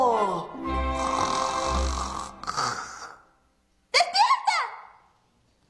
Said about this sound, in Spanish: ¡Tus ronquidos molestan a los bailarines!